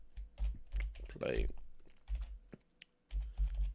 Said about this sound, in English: My mic cable is in the way of my typing.